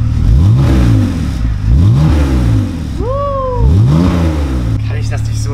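A BMW car with a self-made exhaust revs repeatedly, rising and falling in several loud, close bursts with a deep throaty note, while people talk over it briefly near the middle.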